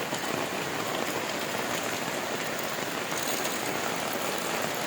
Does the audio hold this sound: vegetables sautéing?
no